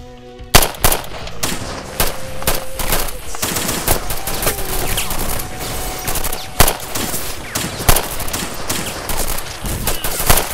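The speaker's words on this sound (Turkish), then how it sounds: "Atış serbest!" Gunfire from an open-fire order in a Turkish military drama, heavy bursts of automatic and rifle shots cracking repeatedly across the scene, loud and continuous with short gaps.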